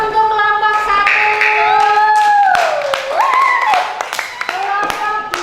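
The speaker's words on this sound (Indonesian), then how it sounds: "Tepuk tangan untuk kelompok 1." A primary school class claps for group 1, sharp hand claps scattered through loud, excited children's voices calling out over the top.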